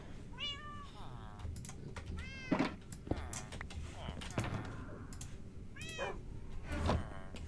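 Cat meowing in the Minecraft video game, several short meows repeated at intervals under quiet talk and faint keyboard typing.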